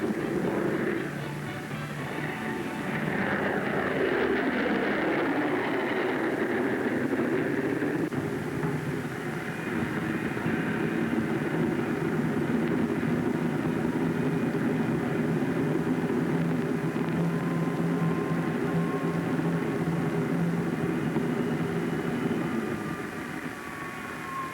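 A Bell P-59 Airacomet jet aircraft in flight, its steady roaring whine with a slowly sliding tone holding for the whole span, heard under ongoing narration.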